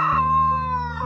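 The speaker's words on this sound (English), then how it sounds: "The roosters are celebrating." A rooster crows once, close and loud, a single drawn-out harmonic call lasting about a second.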